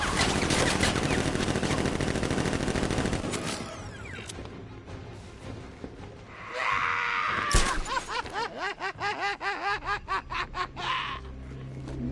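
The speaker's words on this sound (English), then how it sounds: "Open fire! Shoot everything!" Video game gunfire comes as a fast, dense burst of loud shots at the start. It gives way to chirpy, squealing effects and a rhythmic pulsing sound.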